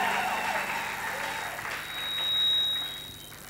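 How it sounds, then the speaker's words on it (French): A church congregation claps during a service, a broad wash of applause that fades after a second or two and gives way to a thin steady tone and quiet room noise. "Est-ce que nous pouvons applaudir très fort pour la gloire du Seigneur?"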